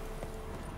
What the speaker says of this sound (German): Und hier sehen wir noch einen Reiter mit seinem Pferd.